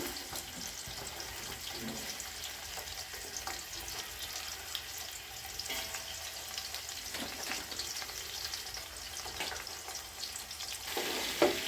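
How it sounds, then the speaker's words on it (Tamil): Onion and whole spices sauté in a pan, giving a steady close sizzle with occasional scraping stirs and soft clatter throughout. "சேர்த்துட்டு இதை எல்லாத்தையும் கொஞ்சம் நேரம் வதக்கலாம்"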